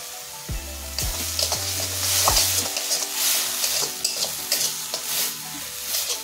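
Onions sizzle steadily in a hot pan while being stirred for a diet-friendly cucumber chicken dish, a loud continuous frying hiss broken by scraping stirs, with no talk.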